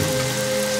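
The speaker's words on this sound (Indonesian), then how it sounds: "hujan mulai turun dengan deras" Heavy rain pours down in a dense, steady hiss with no pauses, loud and close throughout the brief moment.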